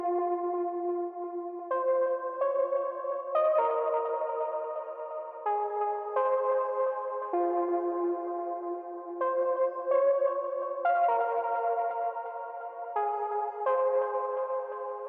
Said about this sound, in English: the first sound we have here is this lead, which sounds like this